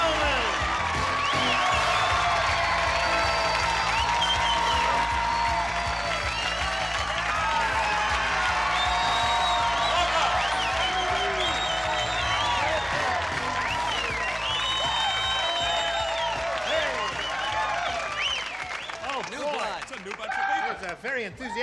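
Sustained, dense studio audience applause at a Match Game–Hollywood Squares Hour taping, a loud steady wash of clapping with scattered whoops and cheers that holds for over twenty seconds before thinning slightly at the end.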